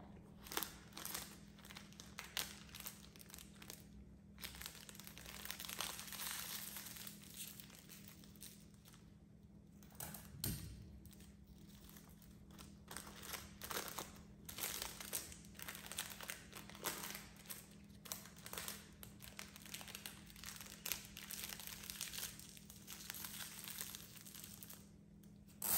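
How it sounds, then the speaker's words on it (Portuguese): A thin plastic bag crinkles softly while a honey cake is packed by hand, a faint, continuous rustling that swells and fades over nearly half a minute in a quiet room. "Eu vou embalar um no saquinho para você ver como eu faço para não sujar o saquinho na hora da embalagem"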